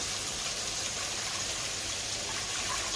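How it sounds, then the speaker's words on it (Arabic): Roughly a litre and a half of water pours into an empty cooking pot for Egyptian koshari. It makes a steady, even rushing splash that continues unbroken from start to finish. "هننزل الحله اهي فاضيه، هننزل بميه"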